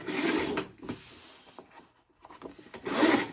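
Paper is trimmed to size for a mini book with rubbing, sliding scrapes and soft swishes, a few passes with short pauses, close and moderately quiet.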